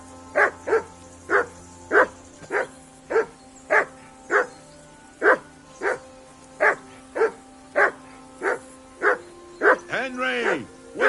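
A dog barks repeatedly in Kingdom Come: Deliverance II, about fifteen evenly spaced loud barks in a steady rhythm, ending in a whining yelp, over a faint low hum.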